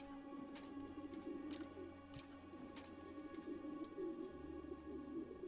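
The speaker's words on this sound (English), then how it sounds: "that is very quiet, actually, the flock of pigeons" Flock of pigeons cooing softly as a sound sample in the Spider-Man: Miles Morales video game, quiet low murmuring coos repeating steadily over a faint background hum.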